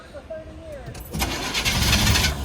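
An old truck's engine cranks briefly with a starter whine, then catches and roars into a loud, steady run, with someone talking over the start.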